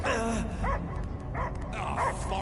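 A dog barks in the video game Marvel's Guardians of the Galaxy, giving a run of short, close barks and yips with a slight whimpering edge, with low game ambience behind.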